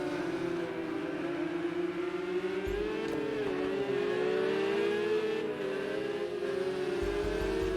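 Race car engines drone steadily through a dark nighttime qualifying heat at Luffield in an Xbox racing game, the pitch sagging and rising as the cars brake hard and accelerate again, loud and continuous with no talk.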